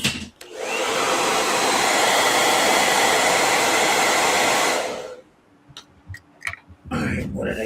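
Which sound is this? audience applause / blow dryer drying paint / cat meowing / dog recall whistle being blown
blow dryer drying paint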